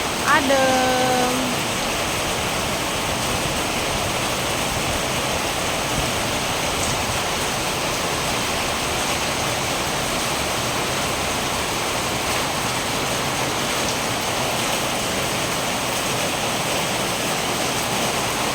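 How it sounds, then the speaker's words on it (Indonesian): Steady rain pours down in a dense, even hiss that continues unbroken for the whole stretch, with a brief voice at the very start. "Akhirnya ini baru turun. Turun hujan."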